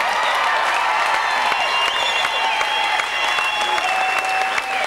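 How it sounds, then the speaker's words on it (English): Steady, sustained applause and crowd noise from a large audience at a snowmobile event in Iowa, loud and continuous throughout with faint cheering mixed in. "Give them another round of applause."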